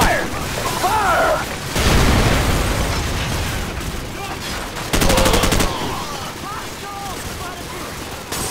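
Video game gunfire from Call of Duty 4: dense bursts of shots and booming blasts, with a sharp rapid crackling volley in the middle, under battle voices and radio chatter.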